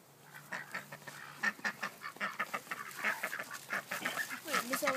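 A large group of ducks quack and honk in a dense, overlapping chorus, moderately close and steady throughout, with no talking.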